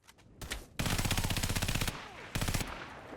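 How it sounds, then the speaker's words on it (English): Bursts of rapid assault rifle fire from the video game The Federal Rescue: a short faint burst, then a long loud automatic volley, then one more brief burst, sharp and close. "The Federal Rescue offers you two different types of weapons, an assault rifle"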